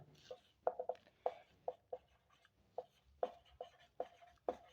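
Chalk or marker writing out a physics numerical on a board in a class, with a run of sharp, spaced taps and short strokes, close and fairly loud, and no talking.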